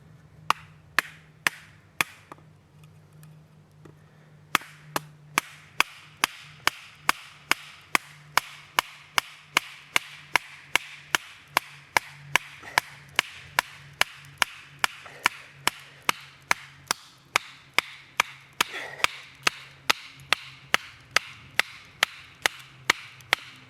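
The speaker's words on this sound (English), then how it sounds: "this is why I use an axe when I do this" An axe chopping wood to shape a spindle, dozens of sharp, loud strikes falling in a fast, steady rhythm after a brief pause near the start, close by and without talk.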